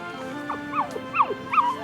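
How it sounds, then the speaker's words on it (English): A small black and white puppy on a farm whimpers and yips in a quick run of high, rising cries, close and clear with no talk. "When Vi saw the litter of puppies"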